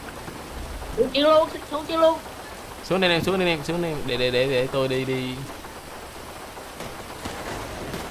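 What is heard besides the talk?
rain falling, from video game GTA 5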